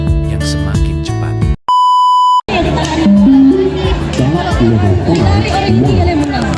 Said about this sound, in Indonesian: lari bolak-balik 20 meter sesuai irama beep yang semakin cepat